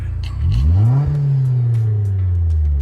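A four-cylinder BMW 318is E36 revs up sharply, its engine note climbing and then holding a steady, loud, close drone.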